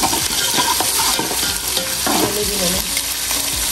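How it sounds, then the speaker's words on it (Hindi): Half-browned onions sizzle and fry in a pan with ginger-garlic paste for mutton pulao, a steady close crackle with repeated scraping stirs throughout and no talking. "ये देखें जी आप, प्याज थोड़ा सा मतलब हाफ ब्राउन हो गया, और ये मैं इसके अंदर अदरक लहसुन का पेस्ट ऐड करूँगी।"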